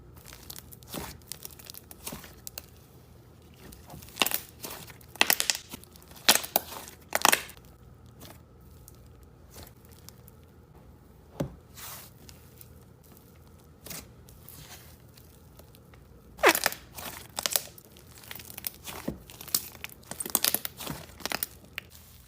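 Fluffy slime squished, stretched and handled, with scattered crinkly, sticky pops and crackles at intervals, close and quiet, some clusters of sharp snaps between calmer stretches.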